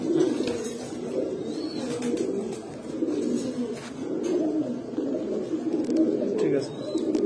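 Pankhi, Grizzle and Baghdadi Homa pigeons kept for sale coo together in a continuous, overlapping low burble. The rolling calls swell and fade close by with no pause.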